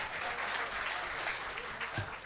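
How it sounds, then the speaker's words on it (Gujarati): Audience at a talk on happiness and living in the present applauding loudly, steady dense clapping filling the hall throughout. "એક વખત જોરદાર તાળીઓ થઈ જાય"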